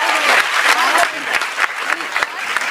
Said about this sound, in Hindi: एक बार ताली मेरे लिए भी बजा दे आप लोग